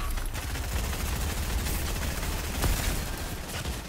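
Rapid bursts of Fortnite gunfire from Chapter 2 Season 3 gameplay rattle continuously and loudly, dense overlapping shots forming a steady fusillade with one sharper crack near the end.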